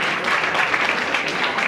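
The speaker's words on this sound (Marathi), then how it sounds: "जरा जोरदार टाळ्या वाजवा" An audience claps for a student at a school felicitation ceremony, a dense, even patter of applause sustained throughout without a break.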